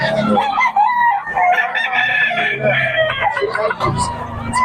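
A rooster crows loudly and up close in Bocaue, its drawn-out call repeating with clucking in between, while people chat in Filipino in the background.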